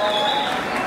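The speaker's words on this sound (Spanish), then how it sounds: "Un aplauso gigante para el maestro Río que está esta noche" Audience at the closing night of KuirFest Bogotá 2018 claps in a dense, loud burst of applause, with a sustained tone running beneath it.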